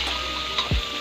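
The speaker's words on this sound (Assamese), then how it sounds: "এয়া মই আলুকেইডোখৰ দি এনেদৰে অকণমান ভাজি লওঁ" Potatoes frying in a pan with half-fried onions, a steady close hiss of hot oil with one brief bubbling pop and a quick low scrape midway.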